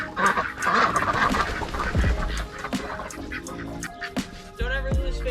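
Ducks quack in a dense, overlapping chorus at feeding time while corn and feed are put out, the calls loud and close with honking bursts and some farmyard clatter.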